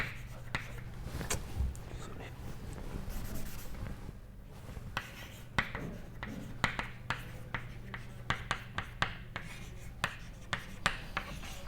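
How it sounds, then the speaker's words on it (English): Handwritten equations go up during a physics lecture on small oscillations: scratchy strokes and a series of sharp taps and clicks, close and fairly quiet, with no voice over them. "I will just write it here."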